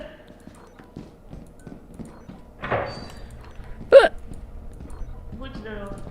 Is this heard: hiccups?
yes